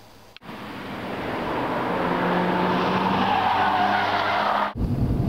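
A 2008 BMW 335xi accelerates hard with a sustained tire squeal and engine roar building over several seconds, loud and close, cut off abruptly at the end.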